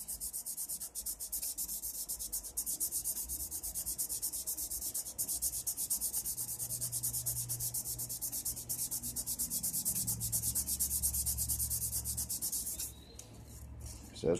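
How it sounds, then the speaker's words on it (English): Aluminum is wet sanded with 800 grit sandpaper, a steady, close scratchy rubbing that keeps a fast back-and-forth rhythm and stops briefly near the end. "the 800 grit sandpaper will remove the scratches and the aluminum that the 320 grit sandpaper put in the aluminum"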